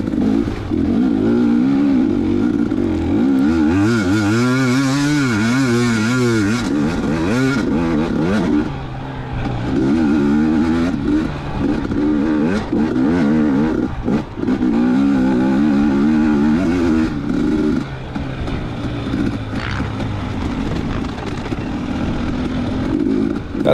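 A racing motorcycle at a Mag 7 road race at Smoking Rabbit GP revs hard, its engine note rising and falling through gear changes and corners, loud and close throughout.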